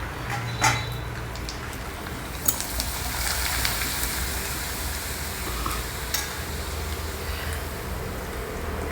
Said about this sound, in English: And before we complete, let's fry some appalams.